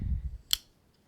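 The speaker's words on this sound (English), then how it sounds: "then you have the scissors, which are somewhat big" A single crisp snip from the fairly large scissors of an inexpensive multitool, one short, sharp cut after a soft low handling rumble.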